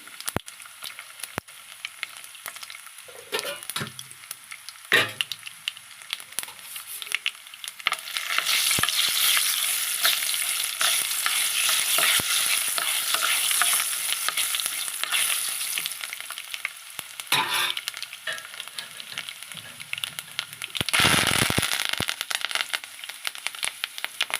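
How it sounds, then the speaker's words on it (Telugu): Garlic fries in hot oil with tempering seeds, sizzling and crackling steadily, swelling into louder bursts of frying with occasional stirring scrapes, close and fairly loud, no talking. "ఇప్పుడు వెల్లుల్లి వేసానండి"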